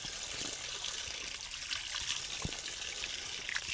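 Clear spring water trickles from a natural outdoor spring in a steady, continuous flow with small splashes, close and moderately loud, with no talk.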